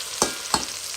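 Onions cook in a hot pan with a soft background sizzle, cut by two quick scraping stirs of a utensil, fairly quiet and close.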